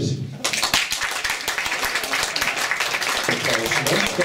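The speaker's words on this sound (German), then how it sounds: "Ein donnernden Applaus für Cora Fantastisch!" Applause from a cabaret-style show audience welcoming a drag performer, starting abruptly after a brief quiet moment and filling the room as a dense, steady wash of clapping, with a voice intermittently heard over it.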